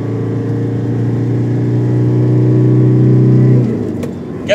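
A car engine is floored in hard acceleration, a loud steady drone that climbs in pitch for several seconds before easing off abruptly as the pedal lifts near the end.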